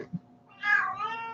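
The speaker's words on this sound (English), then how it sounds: "the cat has a lot to say today" An indoor house cat gives a single drawn-out meow, close and fairly quiet, after a brief soft sound.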